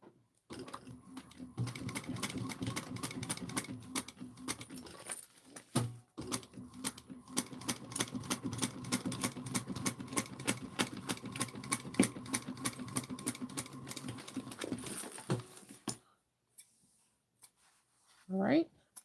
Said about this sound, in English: We're going to hold on to your tails and stitch a 1/8 of an inch.